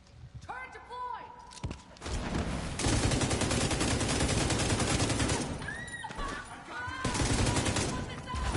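An automated turret in The Division 2 fires sustained bursts of loud, rapid gunfire lasting several seconds, with a voice speaking around the shots and brief electronic tones before and after.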